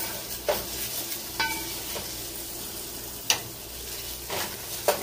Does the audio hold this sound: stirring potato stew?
yes